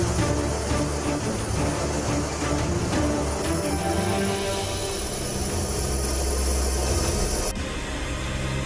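A B-1B Lancer, a long-range supersonic bomber, roars steadily overhead with a broad, continuous jet-engine rush that stays loud throughout, with no talk.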